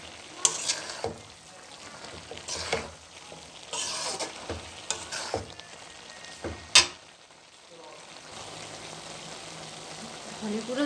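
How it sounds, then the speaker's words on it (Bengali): Cauliflower and potato frying in a pan with coriander powder, stirred with a utensil: soft sizzle under repeated sharp scrapes and clanks against the pan, irregular and close. "ধনে গুঁড়ো দেওয়ার পর এভাবে নেড়ে চেড়ে নিলাম।"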